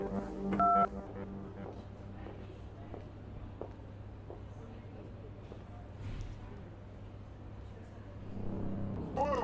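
A brief electronic keypad tone of a phone number being dialed near the start, then a steady low background hum with faint murmuring throughout.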